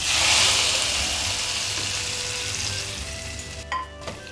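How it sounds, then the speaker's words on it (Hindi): Cumin seeds sizzle and crackle in hot oil for a dal tempering, a steady close frying hiss that eases off slightly, with a few faint clinks near the end. "ये बहुत जल्दी ज़ीरा भून जाता है इसलिए हमने बाद में डाला है।"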